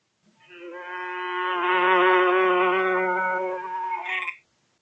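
A bee buzzes near a flower in one steady, close drone that swells and fades over about four seconds.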